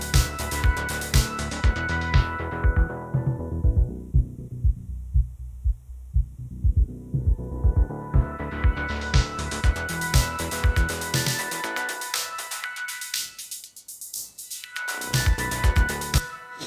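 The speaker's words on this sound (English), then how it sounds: "A low pass filter and a high pass filter always sound cool, and it's always something good to have on your master bus" A looping electronic dance track in Ableton with a low pass filter sweeping down until only the thumping bass remains, then opening back up, followed by a high pass sweep that thins out the low end before full sound returns.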